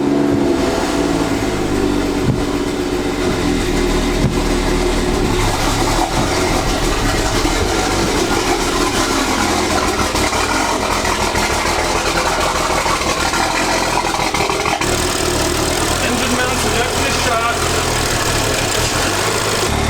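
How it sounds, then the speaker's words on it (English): A BMW engine runs steadily after fresh spark plugs were installed, a close, continuous mid-range drone and idle rumble with slight rev changes, lasting the whole stretch without pause. "Car sounds happy with the spark plugs."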